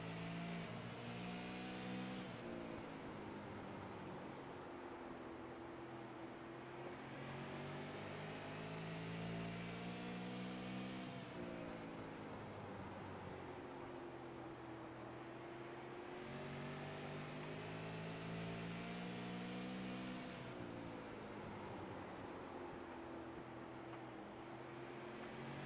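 Super late model race car engine heard onboard at Irwindale Speedway, a loud continuous roar that rises and falls in pitch with repeated acceleration and lifting through the corners, with no talk over it.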